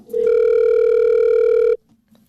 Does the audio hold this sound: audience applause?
no